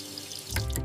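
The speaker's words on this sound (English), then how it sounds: "I turn on the water." A sink tap turned on, water starting to run with a short gushing burst that rises near the end, close and fairly quiet with no talk.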